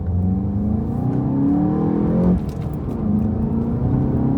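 A tuned Volkswagen MK7 GTI accelerates hard through its gears, a loud, steady engine drone rising in pitch with a brief dip at a shift before climbing again, with no talking.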